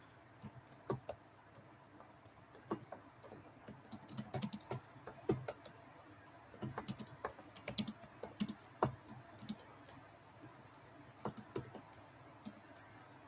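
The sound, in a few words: typing on a computer keyboard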